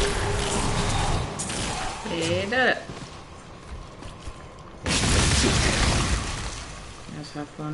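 Explosions in the video game Diablo III, two loud booming bursts, the second starting about halfway through, with quieter in-game effects and chiming sounds between them.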